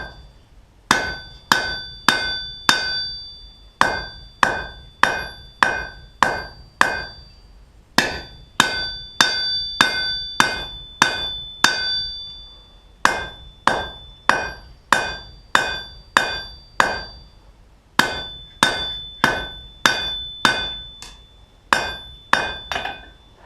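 A hammer forges a taper to a point on a one-inch-wide, eighth-inch-thick steel bar for a trammel hook, striking in steady bursts of about four to six ringing blows with short pauses between, each hit bright and close with a clear anvil ring.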